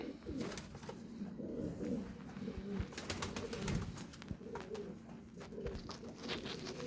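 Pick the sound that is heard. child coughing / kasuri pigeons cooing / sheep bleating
kasuri pigeons cooing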